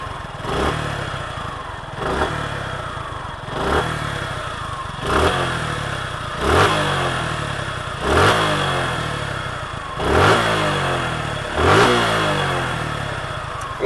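An air-cooled single-cylinder 150cc Suzuki Gixxer 150 SF motorcycle revs repeatedly, about eight sharp throttle blips at a steady rhythm, each rising and falling back to a throbbing idle close by.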